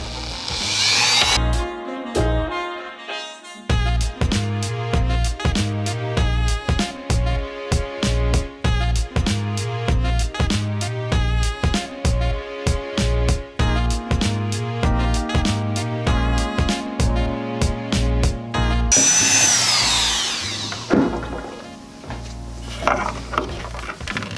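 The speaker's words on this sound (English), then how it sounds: "So we're gonna start with the Dremel, and then we're going to end up pretty much dremeling the inside of that thing" A Dremel rotary tool grinds out the inside of a pipe street elbow fitting during repair of an A&A QuikWater leveler, in repeated short high-pitched whining bursts that start and stop, loud and close, with no talking.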